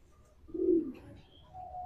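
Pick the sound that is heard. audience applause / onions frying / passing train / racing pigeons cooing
racing pigeons cooing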